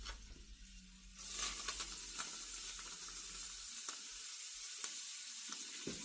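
A hot cast-iron skillet gives off a broad, steady sizzle that swells up after a brief quieter start and carries on evenly, close by, with a few faint clicks and no voices.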